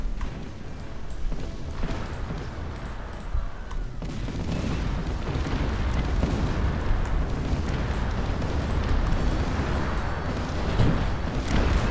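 Cannons fire in the video game Cossacks: Art of War during a siege of Berlin, giving a dense, continuous battle roar of overlapping booms and blasts that thickens partway through.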